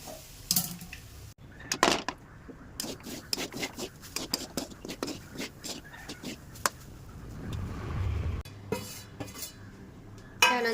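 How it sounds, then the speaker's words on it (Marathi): Grated coconut roasts in ghee in a pan for coconut vadi sweets, the spatula rubbing and scraping against the metal in frequent short strokes at close range, with no voices. "असं थोडं लालसर पूर्ण खरपूस भाजून घ्यायचं"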